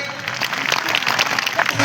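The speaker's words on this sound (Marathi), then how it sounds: "एकदा जोरदार टाळ्या वाजवा आयोजन कमिटीसाठी." A crowd at a motivational event for students bursts into sustained applause for the organizing committee, a dense, steady clapping that stays loud and close for the whole stretch.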